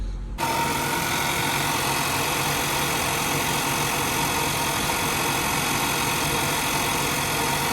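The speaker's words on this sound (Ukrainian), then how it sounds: "Та навіть видно, що оберти зараз піднімаються." A cold Renault Kadjar engine idling at close range, a steady mechanical drone with fine vibration as the revs climb, starting abruptly after a brief quiet moment.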